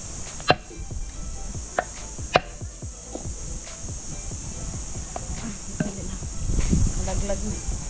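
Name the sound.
chopping lapu-lapu grouper fish into pieces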